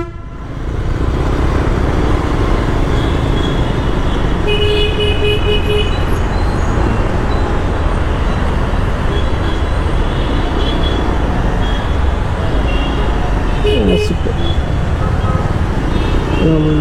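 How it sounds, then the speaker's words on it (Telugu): Heavy road traffic in Lakdikapul, Hyderabad, heard from a moving motorbike: a steady loud roar of engines with scattered horn toots, continuous throughout. "హెవీ ట్రాఫిక్ ఉంది."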